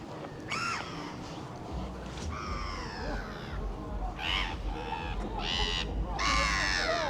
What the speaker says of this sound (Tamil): பார்த்தீங்களா பறவைகள் எல்லாம் வந்து நிற்கி